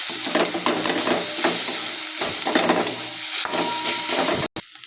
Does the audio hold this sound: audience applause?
no